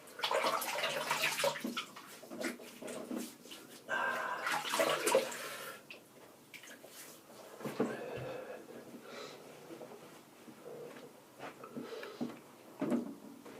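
Tap water runs into a basin as a man wets his face before a shave with a Gillette Fusion Proglide Styler, splashing in uneven bursts with clatter nearby.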